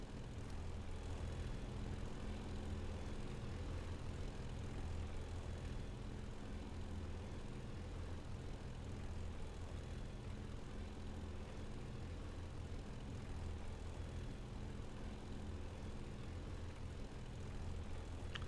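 A steady, unbroken propeller aircraft engine in a flight simulator game drones throughout, a constant buzzing hum with no pauses or voices.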